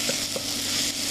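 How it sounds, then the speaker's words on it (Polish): Onion sizzling in hot butter, a steady frying hiss with a couple of soft stirring knocks. "Smażymy do momentu, kiedy osiągnie taki złotawy, już podsmażony kolor."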